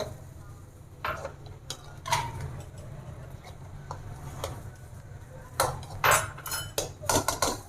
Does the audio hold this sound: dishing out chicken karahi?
yes